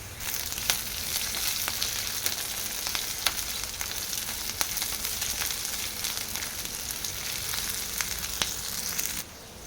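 Oil sizzles and crackles continuously in a pan as curry leaves and green chillies fry for tempering, with sharp popping spatters scattered throughout, then the sizzle drops off abruptly at the end.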